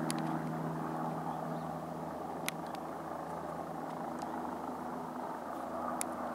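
A helicopter hovers nearby over a residential area, a steady distant rotor and engine drone under faint background noise, with a couple of brief sharp clicks.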